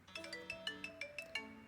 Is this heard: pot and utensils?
no